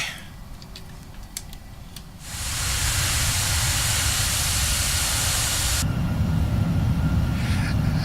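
Jet engines of a JustFlight L1011 airliner in the Prepar3D flight simulator, spooling up into a loud, steady broadband roar and hiss while taxiing, with a shift in tone near the end.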